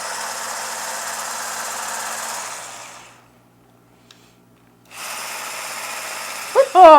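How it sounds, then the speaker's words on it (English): An electric mixer on low speed whisks cake batter with a steady close whirring buzz, stops for a couple of seconds of near silence, then starts again before a voice cuts in at the end. "So we're going to whisk this together."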